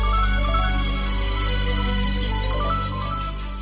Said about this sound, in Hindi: मालकिन का फोन।